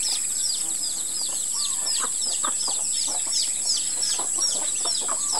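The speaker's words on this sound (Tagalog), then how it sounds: "Pakita ko muna ang aking mga bagong tuntun na sisiw." Small flock of chickens with newly hatched chicks, a dense run of repeated high peeping and chirping alongside hen clucks, steady and close.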